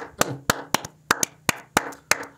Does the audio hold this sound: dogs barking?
no